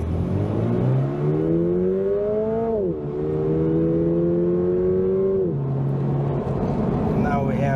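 A 2022 Toyota GR86 sports car accelerating hard on an open road, its engine note climbing steadily through the gears with two brief dips at the shifts, loud and continuous from inside the car.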